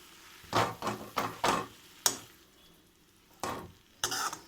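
Fresh mint leaves go into a pan and are stirred for pudina chutney, giving several short scraping and rustling strokes at close range with brief pauses between them.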